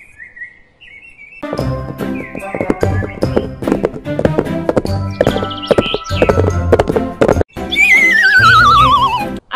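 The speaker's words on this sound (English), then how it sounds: "H for horse." A horse whinnies with a wavering, falling cry near the end, heard over a bouncy children's alphabet song with music and chirpy bird-like sounds; any hoof clip-clop is not distinct.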